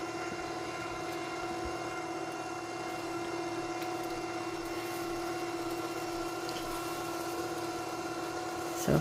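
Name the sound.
Litter Robot 3 litter box motor running its cycle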